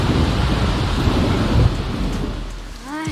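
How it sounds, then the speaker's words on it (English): Steady heavy rainfall and a low rumble of thunder from a rainstorm in The Sims game, continuous and loud throughout, with a faint tonal swoop near the end. "I hope the rain is gone in the morning"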